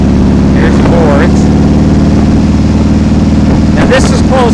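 A car engine held at about 2,500 RPM in fourth gear on a close-ratio transmission, droning steadily and loud throughout from inside the cabin while someone talks over it.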